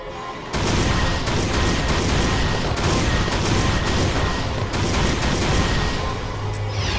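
Rapid gunfire rattles nonstop in Valkyria Chronicles, loud and close, with dense overlapping shots and booms across the whole stretch.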